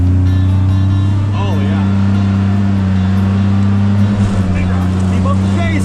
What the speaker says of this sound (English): You just stay in the throttle and man, it just keeps chugging along.